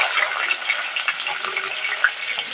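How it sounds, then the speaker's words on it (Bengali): Tomatoes frying in a pan give a steady, close sizzle with occasional stirring scrapes throughout, fairly loud and with no voice over it. "টমেটোটা একটু ভেজে নেবো"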